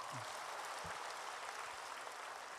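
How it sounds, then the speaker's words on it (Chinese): An audience claps at a session in Los Angeles, producing dense, steady applause that fills the whole stretch, with faint voices under it. "对， 鼓掌。"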